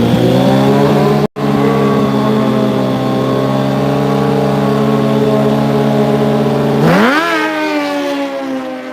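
Suzuki GSXR 1000 and Kawasaki ZX14 motorcycles at a drag race hold a loud, sustained engine drone with one brief cut, then rev sharply up in pitch toward the end.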